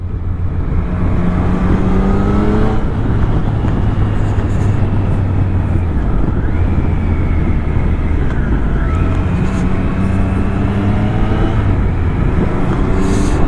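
Loud, steady engine drone from a Triumph Street Triple RS 765 motorcycle on its stock exhaust, with smooth rises and falls in pitch through gear changes and heavy wind rumble throughout.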